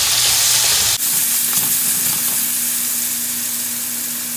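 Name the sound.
chopped tomato frying in oil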